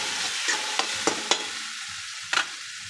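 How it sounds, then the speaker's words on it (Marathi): Masala frying in a pan, stirred with a spoon that gives several sharp scraping clinks over a steady sizzle, close up and with no talk. "असे ढवळायला पाहिजे ना सारखं."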